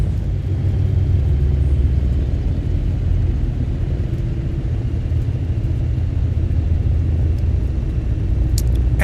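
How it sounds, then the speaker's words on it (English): Steady low engine rumble of a Beechcraft Bonanza G36 taxiing in the X-Plane 12 flight simulator, a constant droning hum with no talking. "Let's taxi on over to the runway."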